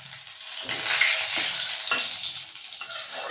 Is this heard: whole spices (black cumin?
yes